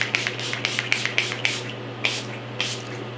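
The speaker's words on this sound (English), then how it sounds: "mist my face with my makeup setting spray" A series of short, soft spritzes of Urban Decay All Nighter makeup setting spray misted onto a face, irregularly spaced, close by over a low steady hum.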